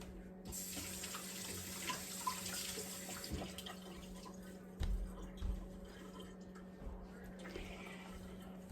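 Water runs from a kitchen tap as hands are washed, a steady hiss with a low hum beneath and a few clinks and knocks, with no talking.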